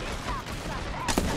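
Gunfire in a shooter video game: a quick burst of several sharp shots, one louder crack near the end, heard up close amid game noise without clear speech.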